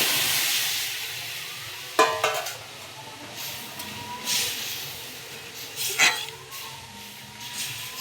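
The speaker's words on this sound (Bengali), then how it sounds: "এবার এই ফোটানো ডালটাকে আমি রসুনের উপর দিয়ে দিলাম।" Boiled lentils (dal) poured over garlic fried in a hot pan set off a bright, hissing sizzle that starts strong and slowly fades, with a few soft clinks and stirring sounds nearby.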